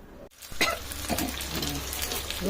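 Marinated pomfret fish shallow-fries in hot oil with a loud, steady sizzle that starts abruptly after a brief quiet moment, heard up close with occasional crackles and no talking.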